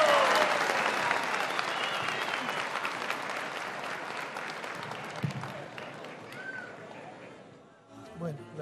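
At a Recycler's Day event in Ecuador, a crowd gives the president loud, sustained applause that slowly thins out and fades near the end.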